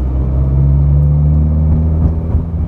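A Ferrari 430 Scuderia with straight-pipe exhaust idles and revs up close, a loud deep rumbling drone holding steady throughout with slight wavering in pitch.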